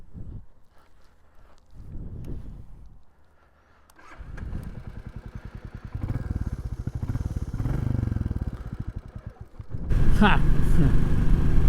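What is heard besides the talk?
Royal Enfield Classic 350 motorcycle riding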